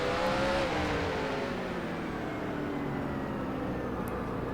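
Ford Mustang stock car engine in NASCAR Racing 2003 at Bowman Gray, a continuous moderately loud drone with slowly falling harmonic tones, steady throughout with no voices.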